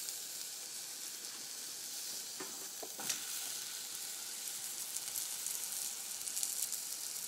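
Turia (ridge gourd) hitting a hot pan sizzles in a steady, fairly quiet hiss, with a few sharper crackles as pieces drop in partway through.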